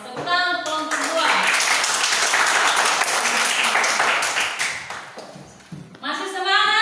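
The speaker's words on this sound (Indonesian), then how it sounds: "tepuk tangan untuk kelompok 2" A classroom group claps together for Group 2, a dense burst of applause lasting several seconds, with children's voices rising at the start and at the end.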